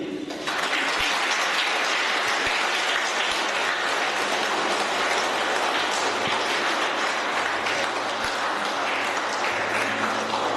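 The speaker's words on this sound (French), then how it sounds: "On va encore applaudir." Wedding mass guests in a church applaud the newly married couple after the ring exchange, a steady dense wash of clapping that fills the whole stretch at even loudness.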